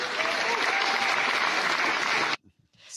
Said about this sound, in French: Donc c'est salué par les applaudissements, hein.